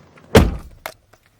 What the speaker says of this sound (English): We can close the door for now.